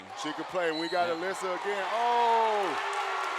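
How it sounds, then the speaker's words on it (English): Crowd noise fills a high school girls' basketball gym at a Wyoming East vs Mingo Central game, a steady loud roar of cheering under an announcer's play-by-play. "We got a mad crowd here."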